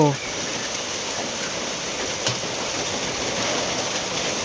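Heavy rain pours at night, a steady hiss of drops on surfaces that stays even and fairly loud, with a brief voice at the very start and a small knock partway through.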